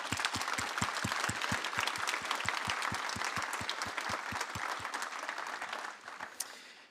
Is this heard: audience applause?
yes